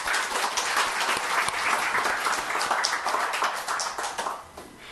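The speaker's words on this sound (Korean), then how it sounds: "박수로 하나님 앞에 먼저 영광을 돌립니다" A church congregation at a Sunday morning service breaks into steady, full applause, a dense wash of many hands clapping that carries on for several seconds before starting to fade.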